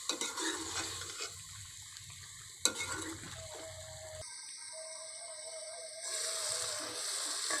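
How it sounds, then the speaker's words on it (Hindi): Meat and peas sizzle quietly in a pot for mater gosht, with scraping stirs and a clank of the spoon against the pot, in a village kitchen. "ये मैंने गोश्त और मटर जो अच्छी तरह से भून लिए हैं।"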